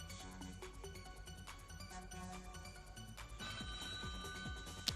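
A telephone ringing during a live television game show, a steady electronic ring running throughout, fairly loud and close, with studio background underneath and no talk.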